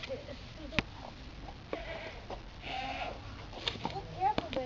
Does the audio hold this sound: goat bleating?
yes